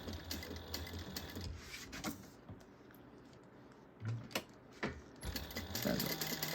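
A sewing machine stitches fabric for a bag, a quiet close mechanical whir broken by a few louder clunks and pauses as the stitching stops and restarts, faint and without speech.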